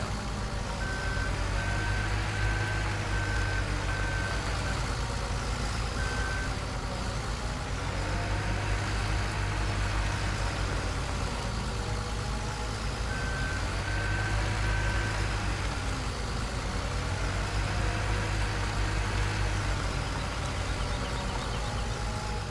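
A skid loader engine hums steadily in Farming Simulator 2017, with a low drone throughout and intermittent high reversing beeps in short repeated runs, no voices.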